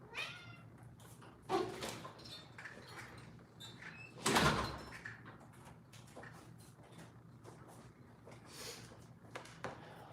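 A kitten meows in a home kitchen during sushi preparation, a few short cries scattered over about ten seconds, one louder call standing out, amid faint household clatter.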